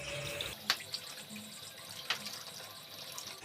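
Milk pours into a wok in a home kitchen, a soft running liquid splash with a couple of sharp clinks as it starts, steady and close with no talk.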